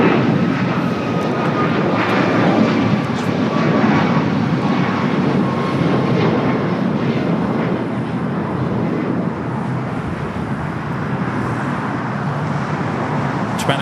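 An Air Canada heavy airliner on its takeoff run from runway 25 right at LAX fills the air with a loud, sustained jet engine roar that holds steady and eases slightly toward the end.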